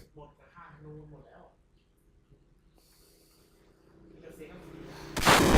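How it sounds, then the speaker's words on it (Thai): A self-destruct explosion in the Final Fantasy VII video game ends the clip as one loud, sharp burst. Quieter voices and game sounds come before it. "ระเบิดตัวเอง"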